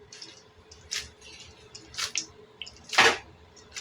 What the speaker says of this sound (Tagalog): maglagay ako ng kaunting tubig